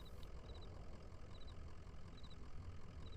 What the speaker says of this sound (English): Moving truck rumbles softly to itself.